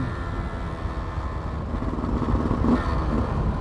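A second-hand Yamaha F1ZR motorcycle rides along with its engine droning steadily up close, rising slightly as it accelerates, with some rattling.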